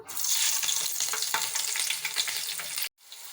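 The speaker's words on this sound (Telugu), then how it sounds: "నూనె అయితే వేడొచ్చిందండి. ఇప్పుడు మనం పచ్చిమిర్చి వేసుకుందాం." Green chillies frying in hot oil for chicken curry, a loud continuous sizzle with light stirring that cuts off abruptly near the end, followed by a quieter sizzle.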